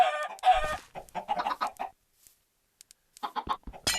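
Chickens clucking in Minecraft, several bursts of sharp, close in-game clucks with a short silent pause in the middle and no talk.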